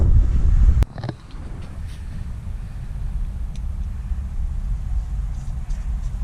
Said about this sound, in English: wind's still ripping pretty good.